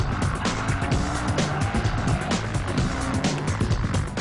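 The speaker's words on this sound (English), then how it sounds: "It's fun to drive the Ferrari in the wet." A Ferrari 575 M drives on a wet road, with a loud, continuous roar of engine and tire hiss on water, pulsing slightly as it goes, heard up close with no voices.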